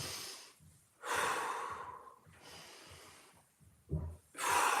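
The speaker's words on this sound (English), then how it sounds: "Inhale here." Deep breaths come in a hip mobility workout, slow audible inhales and exhales trading off close to the mic with quiet gaps between them.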